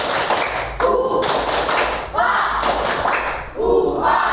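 A classroom group performs a rhythmic 'tepuk semangat' clapping routine, loud patterned bursts of claps and thumps in repeated sections, with children's voices and talk mixed in between.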